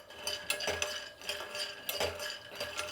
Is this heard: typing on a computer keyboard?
no